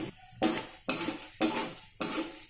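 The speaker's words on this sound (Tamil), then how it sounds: "வேர்க்கடலை மேலே இது போடுறதுக்கோசரம் வறுத்து போட்டுக்கலாம்" Peanuts roast in a pan for temple-style tamarind rice, stirred in four quick, evenly spaced bursts of rattling scrape and sizzle, close up and without any speech.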